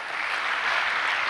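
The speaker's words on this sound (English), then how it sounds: "let's give them a big round of applause" A public lecture audience bursts into a big round of applause, a thick, close wall of many hands clapping that stays loud and even across a brief moment.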